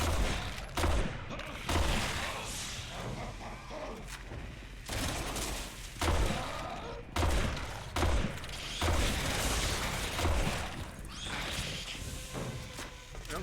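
Gunfire in Resident Evil 6, including a sniper rifle, with heavy irregular shots and bursts spread throughout, loud and close, over a busy background of combat noise.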